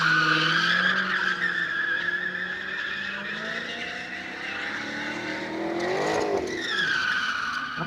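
A car driven hard with tires skidding and squealing, a long sustained screech with shifting pitch that swells near the end, loud and close with steady engine noise beneath.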